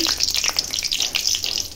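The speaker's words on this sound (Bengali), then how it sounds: "কোপ্তা ভাজার তেলে আমি শুকনো লঙ্কা দিয়ে দিচ্ছি," Dried red chillies crackle and hiss as they hit hot oil left from frying jackfruit koftas. The bright, dense sizzle is steady and close, with no voices over it.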